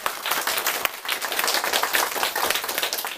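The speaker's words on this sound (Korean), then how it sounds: "모두 크게 박수 한번 보내주세요" A classroom of students applauds after a debate, a dense wash of many hands clapping at close range, holding at an even loudness for a few seconds.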